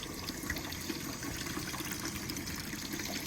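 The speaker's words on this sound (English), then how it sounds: "the majority of all of that water is just going right into the gutter" Rainwater runs off a gutter helmet and pours into the gutter in a steady, dense trickle and splash. The flow is close and fairly quiet, with no speech over it.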